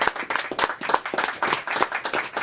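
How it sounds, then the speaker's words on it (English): Audience applause during an interview segment: a dense, steady patter of many hands clapping at moderate volume for about two and a half seconds, with no talking over it. "Everybody give her a round of applause."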